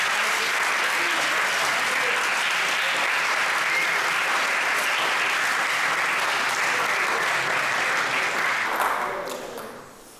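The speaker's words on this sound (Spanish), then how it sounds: "Fuerte aplauso para sí." An audience at a STEM colloquium welcoming a speaker with loud, dense, sustained applause from many hands, holding steady for several seconds before tapering off at the end.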